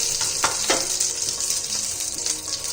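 Curry leaves sizzle in frying oil for a crispy baby corn chilli, producing a close, steady crackle with a few louder bursts and spoon stirring.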